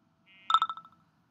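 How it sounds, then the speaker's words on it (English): Ringtone alarm from a phone app paired with a JB Industries DV-40S digital micron gauge, sounding as a target alarm: a short run of about seven bright, quickly fading electronic beeps, close and clear with no talking. "Now my phone is vibrating, the light is flashing, and I'm getting the ringtone that I have associated with the target alarm."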